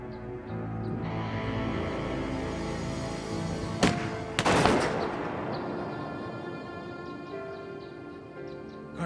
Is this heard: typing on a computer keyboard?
no